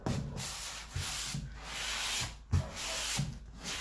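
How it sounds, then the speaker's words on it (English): Close, steady scratchy sanding strokes on a painted furniture piece, rhythmic back-and-forth rubbing with brief pauses between passes. "sanding down your piece."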